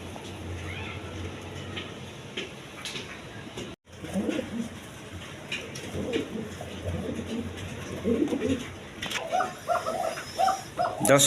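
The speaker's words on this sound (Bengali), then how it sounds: "একদম কোয়ালিটি সম্পন্ন কবুতর" Low, soft coos from king pigeons for sale repeat against a busy background of chatter and other birds, with a brief dropout partway through.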